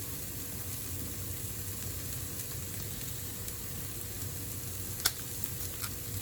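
Garlic and ground beef sizzling steadily in a pan as empanada filling cooks, a soft, even crackle with a brief clink of a utensil near the end.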